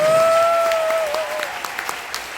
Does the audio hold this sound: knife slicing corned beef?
no